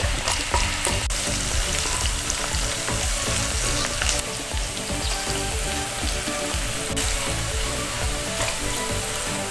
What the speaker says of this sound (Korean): 마늘과 고추향이 기름에 잘 우러나도록 볶아주시고요